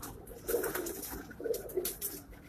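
A Rampuri pigeon coos softly in a few low, rolling phrases near at hand, with faint rustling and background bird noise behind it and no voices.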